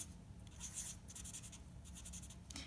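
A pen scratches across paper while molecules are drawn for a chemistry equation, making quiet, close strokes in short bursts with brief pauses between them.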